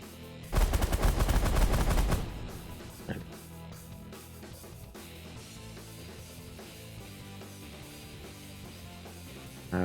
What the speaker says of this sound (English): I'm guessing the minigun will be fine.